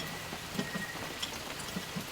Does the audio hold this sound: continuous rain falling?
yes